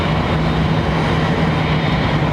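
Airliner engines spool up to takeoff power at London Heathrow Airport. The deep, steady roar stays loud and constant, with a low droning hum and no voices.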